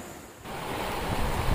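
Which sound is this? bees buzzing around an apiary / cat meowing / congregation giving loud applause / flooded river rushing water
flooded river rushing water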